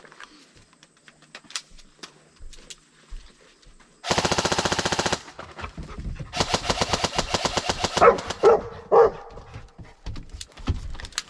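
A household dog lets out a few short barks near the end, following loud rapid bursts of airsoft gunfire nearby.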